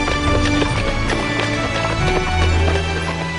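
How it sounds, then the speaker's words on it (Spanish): Horse-drawn carriage hooves clip-clop steadily on pavement, a continuous trotting rhythm close by with faint background bustle. "Los coches de caballos forman parte de una tradición milenaria"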